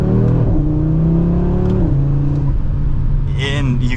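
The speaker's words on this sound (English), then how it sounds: "you can hear the turbo just a little bit" A 2024 Audi RS3 engine revs in a loud, close, rising growl, then eases off, with a faint turbo whoosh and whistle near the end.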